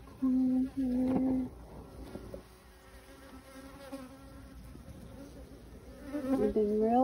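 Honey bees in an open beehive give a steady, close buzzing drone of many wings, with louder, sharper buzzes near the start and end as individual bees pass near.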